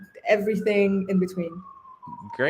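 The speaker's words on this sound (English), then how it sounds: "You can hear some sirens in the background," An emergency vehicle siren in Athens wails steadily in the background as a single slowly falling tone, running beneath a person speaking in the foreground.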